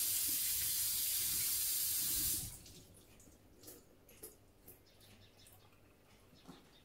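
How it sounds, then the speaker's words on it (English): Corned beef rinsed under a running kitchen tap: a steady rush of water for about two seconds, then it cuts off, leaving a few soft drips and faint clatter in a quiet room. "So I normally just give it a little rinse under the tap."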